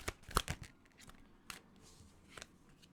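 Tarot cards are shuffled and drawn, giving a few soft, close crisp snaps and rustles at the start followed by quieter scattered card handling.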